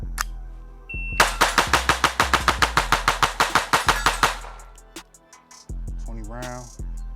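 A rapid string of about twenty close, loud gunshots at a shooting range, evenly spaced and sharply cracking one after another, followed by a quieter pause and some faint handling noise.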